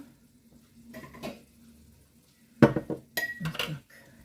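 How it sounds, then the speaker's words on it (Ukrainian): A glass jar is set down with a sharp clink, followed by a few more clattering knocks of glass and kitchenware, then quiet, while jarring roasted eggplant spread for winter. "Ставимо баночку."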